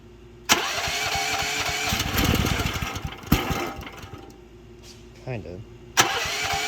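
A Chinese mini excavator's small engine is cranked with the choke on, giving several sharp starting bursts and brief catches of engine noise, while a person talks nearby.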